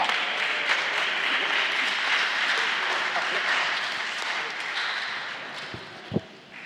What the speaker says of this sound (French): Un applaudissement pour cela